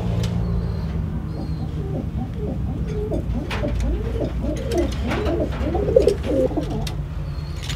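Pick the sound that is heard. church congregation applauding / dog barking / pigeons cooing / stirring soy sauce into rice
pigeons cooing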